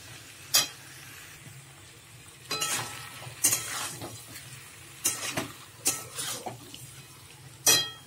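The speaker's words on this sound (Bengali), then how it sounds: "এবারে ভালো করে মশলার সাথে কষিয়ে নেব।" Jackfruit and potato stir-fried with spices in a pan, with a low steady sizzle broken by repeated sharp scrapes and clinks of a spatula against the metal, some in quick clusters, close and fairly loud.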